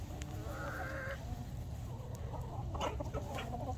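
A rooster gives soft clucks and a short crowing call amid other farm animal sounds on a sheep farm during shearing day, heard at moderate distance over low background noise.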